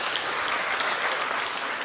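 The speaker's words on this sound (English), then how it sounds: "I think he deserves another round of applause." An audience at a 75th birthday celebration applauds with steady, dense clapping throughout.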